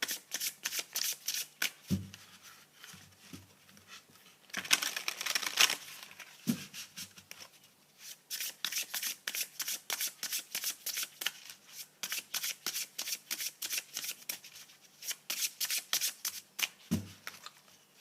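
Tarot cards being shuffled by hand, rapid repeated riffling bursts with brief pauses and a few soft thumps as the deck is tapped, close and crisp, no talking.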